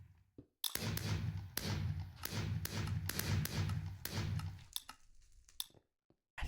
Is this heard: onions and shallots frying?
no